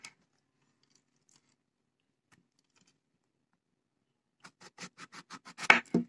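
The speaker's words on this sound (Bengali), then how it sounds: "আমি এখানে আমার সাইজ মতন আমি তরকারির জন্য কেটে নিচ্ছি।" A knife chops eggplant into curry-sized pieces on a board in a home kitchen, a quick run of about ten crisp cuts near the end after a long quiet stretch, close and moderately loud.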